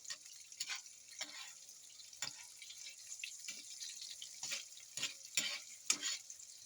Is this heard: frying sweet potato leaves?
yes